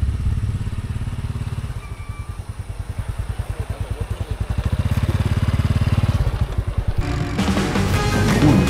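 A borrowed motorcycle on Pulau Tioman idles with a steady, rapid engine putter, then revs up and pulls away, getting louder near the close; no talking.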